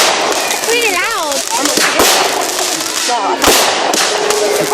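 Fireworks burst at a village display in Potton, sharp loud bangs and crackles over rising whistles, with people talking and shouting close by throughout.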